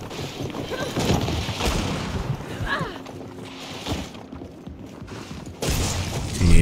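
Gunfire and mechanical weapon noise from the shooter video game Gears 5 sound in bursts over a busy game soundscape, with a louder blast near the end.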